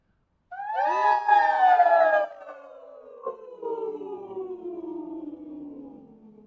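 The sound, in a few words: group of people imitating a siren with their voices, top to bottom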